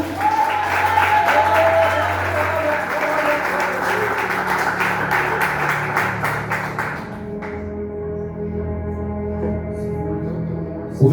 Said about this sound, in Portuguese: Dá uma linda salva de palmas para Jesus.